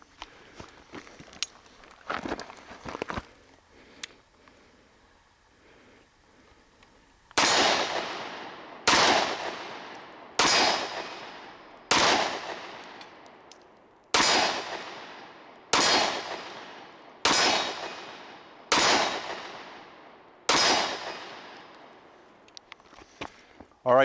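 A Springfield Armory Ronin Commander 1911 pistol fires about nine sharp, loud shots at a steady pace, each with a decaying echo, after a quieter stretch of clanks and handling noise outdoors.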